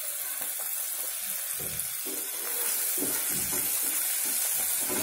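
Tomatoes, garlic and chilies go into onions frying in a pan for chana dal sabzi, producing a continuous moderate sizzle with faint stirring scrapes that grows slightly louder midway, no speech.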